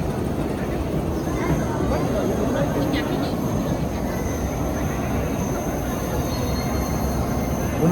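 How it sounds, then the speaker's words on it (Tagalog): A train in Hong Kong pulls in and rolls past close by, a loud continuous rumble of wheels on rails with faint squeals, filling the whole stretch steadily while people talk faintly in the background. "Bumalik agad yung train, bilis."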